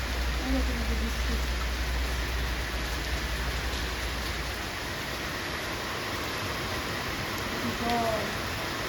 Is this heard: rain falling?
yes